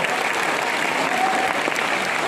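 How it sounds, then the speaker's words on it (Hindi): Applause breaks out for Bernard at a BJP rally in Tura, a loud, continuous clapping from the gathered crowd that carries through the whole moment. "We should clap for him."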